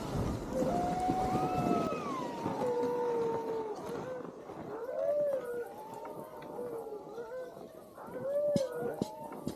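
A pack of sled dogs at a harnessed, anchored sled team howls together, several long rising and falling voices overlapping continuously at close range, with a few whimpers mixed in.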